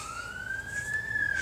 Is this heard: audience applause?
no